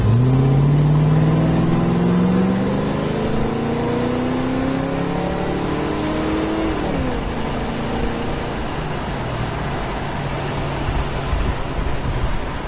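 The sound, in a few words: car engine running and revving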